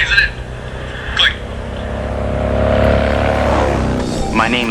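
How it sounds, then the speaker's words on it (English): Cars whizzing past on a roadside, a loud continuous rush of traffic swelling and fading as vehicles pass close by, with brief voice fragments near the start and end. "Cars are whizzing by."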